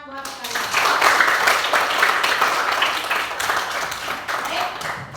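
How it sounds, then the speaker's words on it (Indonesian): A group of children in a classroom claps together in quick, scattered applause that swells, holds for several seconds, then tapers off. "Tepuk tangan buat kalian."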